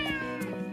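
A cat gives a brief, faint meow in a quiet indoor setting, a single short call heard alone.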